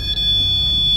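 A REM pod ghost-hunting device set in a hotel corridor sounds a continuous high electronic alarm tone, loud and steady throughout the brief moment.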